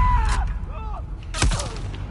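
A sniper rifle shot in The Last of Us Part II during a hostile territory encounter: one sharp, loud crack with a brief echoing tail, preceded by faint ambient game sounds and a distant whine.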